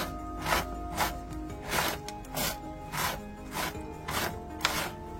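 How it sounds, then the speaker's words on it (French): Potting soil mixed with water by hand to a cake-batter texture, rhythmic gritty rubbing and squishing strokes repeating about once a second, close and quiet. "on met un peu d'eau. Et on va mélanger jusqu'à temps qu'on ait la bonne texture."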